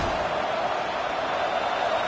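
A stadium crowd roars steadily at a football game, with a dense, continuous wall of noise from the packed stands.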